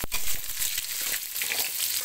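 Shallots and dried red chillies sautéing in hot oil, a steady close sizzle and crackle that holds from start to finish with faint stirring scrapes.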